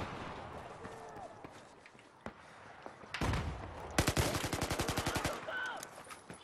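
Gunfire in Battlefield 4 comes through game audio, with scattered shots and then a rapid automatic burst of evenly spaced loud reports near the middle, over a busy battle background.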